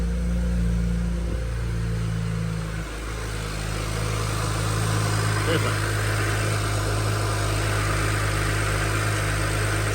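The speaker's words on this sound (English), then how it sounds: "since we did the butterfly mod, Golf T mod, the exhaust doesn't rattle anymore and it sounds good" A BMW 335i with a butterfly-modded exhaust idles in a steady low rumble, close and continuous, with a slight dip partway through and someone speaking briefly over it.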